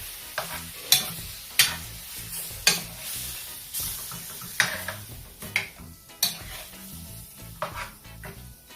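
A spoon stirs curry goat in a cooking pot for a Jamaican Sunday dinner, giving about a dozen rhythmic scraping strokes against the metal with a faint simmer between them, close and alone.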